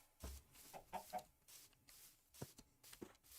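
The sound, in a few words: chickens clucking in a video game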